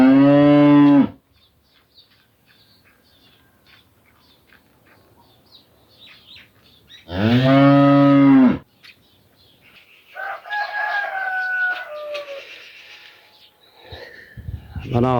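A cow on a farm lets out two long, loud, close moos several seconds apart, with quiet stretches between and faint bird calls and a voice in the background.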